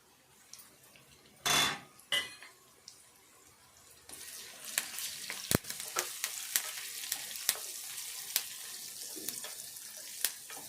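Onions frying in a pan with turmeric and curry leaves for a mint and egg curry, a steady sizzle rising after a few clanks, with repeated scraping and tapping of a spoon stirring against the pan.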